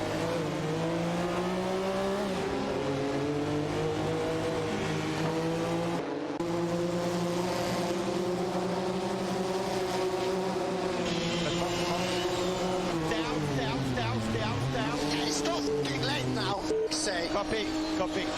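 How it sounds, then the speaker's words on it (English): Race cars, including a Ferrari F50 GT and a Dauer 962 LM, roar past in an AI-driven racing video game, engines revving and shifting pitch continuously with occasional tire squeal, under an ongoing commentary voice. "The Ferrari F50 GT showing impressive performance against the Dower 962 LM."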